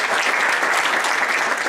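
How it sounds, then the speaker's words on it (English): Steady, dense applause from a crowd at an amusement park presentation, loud and continuous throughout with no voices standing out. "a big round of applause for Brian in the back."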